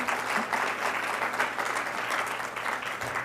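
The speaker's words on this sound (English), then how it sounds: "big round of applause for Aaron, you guys" Steady audience applause at a brand marketers' summit in Lake Tahoe, a dense, even wash of many hands clapping at moderate volume throughout, with no pauses and no voices standing out.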